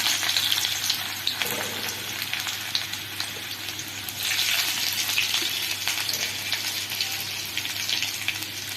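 Garlic added to oil tempered with cumin seeds, frying loudly and close: a dense, crackling sizzle with a surge partway through and light stirring scrapes, no speech.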